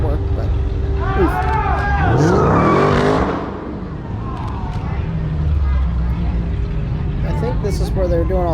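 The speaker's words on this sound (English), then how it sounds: "I think this is where they're doing all the burnouts" A car does burnouts at a Route 66 festival, its engine revving and tires squealing in sweeping rising and falling tones, heard amid crowd noise and nearby talk.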